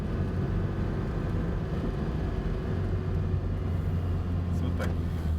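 A truck engine runs steadily while driving, with a low constant rumble and drone throughout and a faint, brief squeak near the end.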